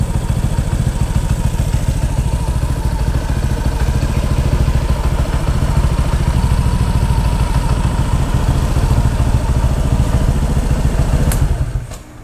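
A Honda Vario 160 scooter fitted with a WRX GP3 exhaust idles on a cold engine while warming up, a steady, close, loud putter with a faint mechanical clatter running unbroken before cutting off at the end.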